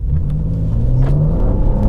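A 2026 BMW M2 CS with a twin-turbocharged 3-liter inline-6 accelerates hard, its loud, close engine note climbing steadily through the revs with a deep rumble underneath and no talking.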